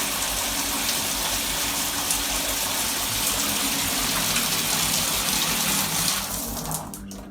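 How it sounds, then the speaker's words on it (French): A shower running steadily, with a constant hiss of water spraying and splashing that holds for several seconds before the flow thins out toward the end. "Put the shower on."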